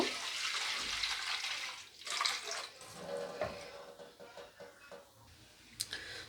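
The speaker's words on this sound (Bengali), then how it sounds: "এর মধ্যে একটু ঠান্ডা জল নিয়ে নেব" Cold water is poured into a bowl while preparing a mango drink, giving a continuous splashing trickle that varies in strength with small clinks, at moderate loudness throughout.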